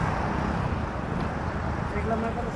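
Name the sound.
traffic on a main road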